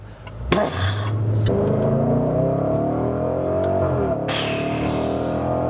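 A 2020 Range Rover Velar SVAutobiography accelerating hard at around 80% throttle, its engine note rising loudly and steadily, dropping briefly as it shifts up, then climbing again, heard close and alone.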